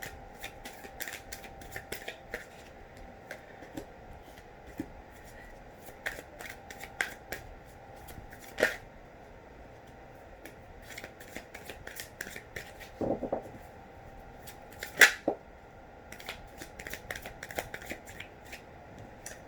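Tarot cards shuffled by hand at close range, a soft continuous riffling and sliding with scattered sharper card snaps, quiet and steady with no voices.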